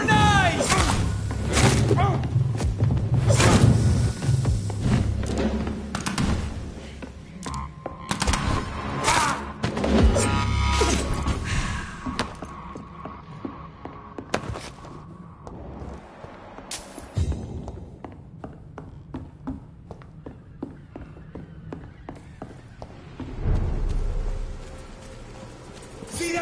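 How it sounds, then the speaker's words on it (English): A grenade blast in the video game Vampyr, heavy thuds and booms packed into a loud, chaotic stretch of gunfire and clatter that thins into scattered sharp clicks and impacts, with voices shouting over it. "Grenade!"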